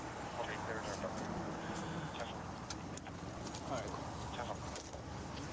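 At a roadside police DWI stop, a set of keys jangles as it is handed over, giving a few brief metallic clinks over steady vehicle noise, with people talking in the background.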